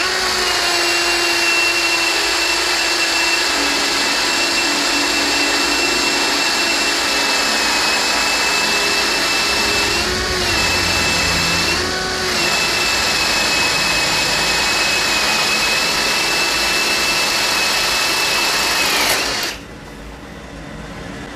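A DCA ADJZ03-13EM cordless hammer drill runs steadily at a high whine for about twenty seconds, close and loud, with two brief dips, then cuts off.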